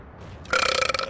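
A single loud, raspy burp from a man playing the online game Champions Online, bursting out after a brief quiet lead-in and rattling on for about half a second with a rough, pulsing texture.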